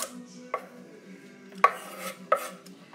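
Celery being chopped on a cutting board for vegetable soup with meatballs, four separate sharp knife strikes at uneven intervals, close and distinct over a quiet kitchen background, no talking.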